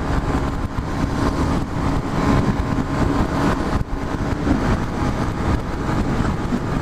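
A motorcycle rides along a road, a steady loud engine drone with wind rush that continues throughout without talking.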